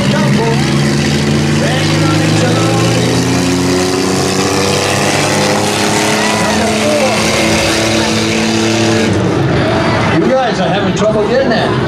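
Race car engines roar loudly and continuously at a drag race, rising in pitch as they accelerate close by, then cut off abruptly near the end.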